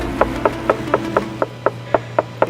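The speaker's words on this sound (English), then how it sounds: "Knock, knock." Rapid knocking on a door inside a private jet, about ten sharp, evenly spaced raps in quick succession, close and clear with no talking.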